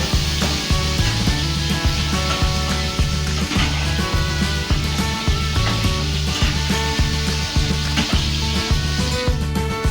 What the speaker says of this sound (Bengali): হলুদটাকে আলুর সাথে নাড়াচাড়া করে মিশিয়ে নিয়ে আলুগুলোকে লাল লাল করে ভেজে নেব